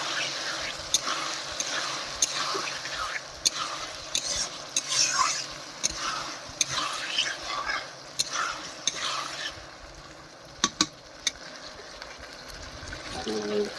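Pieces of fish frying in hot oil in a pan give a steady, close sizzle, punctuated by regular sharp clicks and scrapes of a utensil stirring and turning them.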